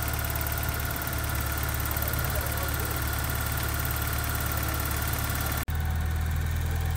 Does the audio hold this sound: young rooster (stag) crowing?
no